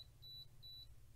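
Two short, high electronic beeps from a Schlage BE365 electronic deadbolt during programming, close by, evenly spaced, over a faint steady hum.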